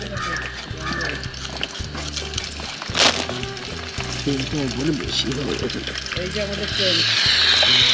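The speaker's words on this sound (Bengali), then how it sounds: "এবার মাংসের জন্য আলু ভাজা হচ্ছে" Potatoes sizzle and crackle in hot oil with steady frying hiss at a jungle campsite, joined by stirring clatter and a low rhythmic background hum.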